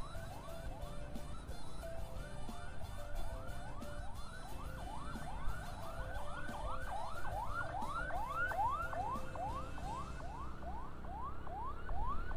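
An ambulance siren wails in a steady repeating rise-and-fall pattern for the whole stretch, passing on a road in Padang traffic, loud over a continuous rumble of road noise with no talking.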